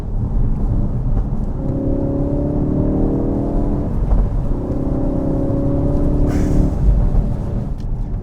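A Ford Focus RS is driven on the road, its engine a steady droning hum with gentle rises in pitch as it pulls, wrapped in constant road and wind rumble.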